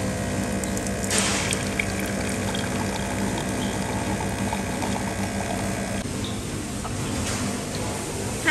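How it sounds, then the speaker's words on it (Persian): An IKEA coffee machine dispensing free black coffee into a cup, with a steady whirring pump and a continuous pouring hiss, fairly loud and close, running without a break and with no talking. "میزنیم و یه دونه بلک کافی مثلا میزنیم"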